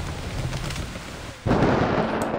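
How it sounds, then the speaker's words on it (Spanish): A thunder strike in the video game Eternal Hope lands as a sudden loud crack and burst of noise after a moment of low rumbling, then a broad roar that holds steady, with no speech. "¿Me ha caído un trueno a mí?"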